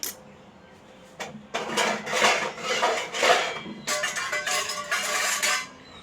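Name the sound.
stirring mango milkshake mixture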